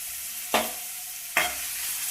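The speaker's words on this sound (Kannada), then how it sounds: "ಎಣ್ಣೆ ಕಾದಿದೆ, ಇದರಲ್ಲಿ ಆಲೂಗಡ್ಡೆ ಹಾಕೊಂಡು ಸ್ವಲ್ಪ ಫ್ರೈ ಮಾಡ್ಕೊಳ್ಳೋಣ" Potatoes fry in hot oil in a pan over a low flame, giving a steady, even sizzle broken by two brief louder stirring scrapes.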